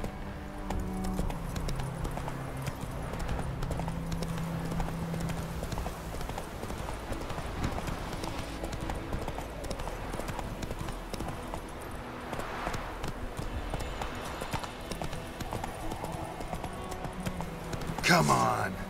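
Roach, Geralt's horse in The Witcher 3, gallops with steady, continuous hoofbeats over a busy game soundtrack, with a voice briefly heard and a sharper burst near the end.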